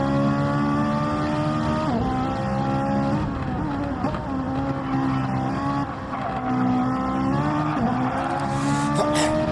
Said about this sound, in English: Rick with a solo lap now on a flying lap. Let's go chase cam with the Ferrari